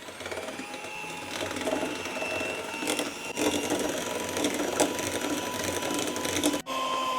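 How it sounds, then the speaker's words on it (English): Cookie mixture is whisked until fluffy, giving a continuous, fairly quiet mechanical whirring and rattling that holds steady throughout. A short spoken remark comes near the end. "Now we need to whisk this until it becomes really fluffy."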